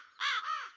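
A single harsh caw from a crow, one short raspy call close by, with no voices.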